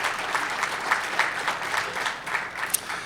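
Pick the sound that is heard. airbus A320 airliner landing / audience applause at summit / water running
audience applause at summit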